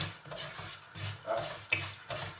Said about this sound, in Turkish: Şimdi pilav kavuruyorum arkadaşlar